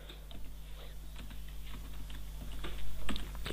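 C++ code being typed on a computer keyboard: soft, uneven keystrokes over a steady low hum, growing slightly louder and busier toward the end, with no speech.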